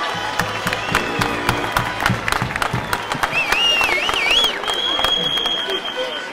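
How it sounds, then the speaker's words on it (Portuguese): Outdoor crowd applauding at the inauguration of the Carnival monument in Torres Vedras during the 2019 carnival: steady, dense clapping close by, with a few whistle-like tones rising and falling over it and some voices mixed in. "Mais uma grande salva de palmas para o corneta."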